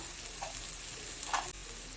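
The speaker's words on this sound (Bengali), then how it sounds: "আদাটাও ভাজা ভাজা হয়ে গেছে" Ginger frying in a pan of hot oil for a fish curry, giving a steady close sizzle with a couple of brief scraping stirs.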